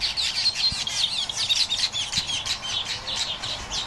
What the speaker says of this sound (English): This is a male Cape weaverbird, busy building a number of nests for inspection by his prospective mate